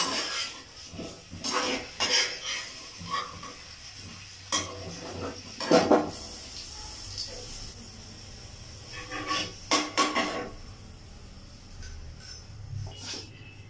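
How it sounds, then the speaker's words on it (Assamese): Fried potatoes being lifted from a frying pan, with scattered scrapes and metallic clinks of a utensil against the pan, near and intermittent between quiet stretches. "আলুখিনি অলপ ব্ৰাউন কালাৰ হৈছে এতিয়া মই উঠাই দিম"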